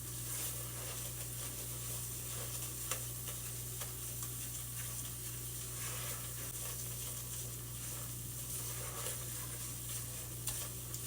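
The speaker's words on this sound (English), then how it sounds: "we're going to add in some flour. This is all-purpose flour." All-purpose flour stirred into softened vegetables in a pot for a seafood bisque, giving a steady, even sizzle with faint scattered ticks from the spoon. No one speaks.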